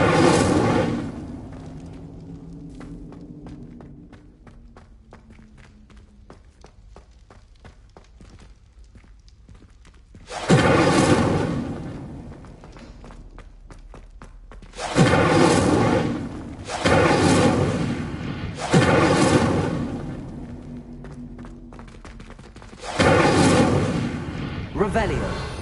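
An Incendio fire spell cast in the Hogwarts Legacy video game: several loud, booming whooshes of flame in separate bursts, with spoken voices and game sounds between them.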